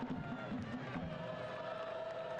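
A big stadium crowd roars steadily through a Richmond Kickers v Charlotte Independence soccer match, a dense, continuous wash of cheering with a commentator's voice faintly underneath.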